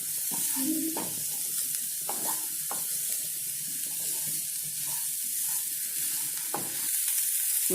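Bread upma with green chilli fries in a pan under a constant bright sizzle, broken by occasional scraping stirs of a spatula, close and continuous without speech.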